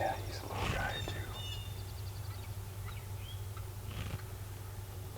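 Wild turkey gobbling in spring woods, a couple of rattling gobbles over a steady low hum, fairly faint and distant, with quiet voices nearby.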